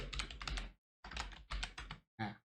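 Someone types a search into Google on a computer keyboard: short bursts of rapid, close keystrokes separated by brief pauses.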